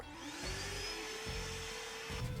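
A vacuum cleaner draws ash out of the belly of a Lone Star Grillz pellet smoker, a steady whining drone with a rising motor pitch and periodic rough sucking bursts as the nozzle moves.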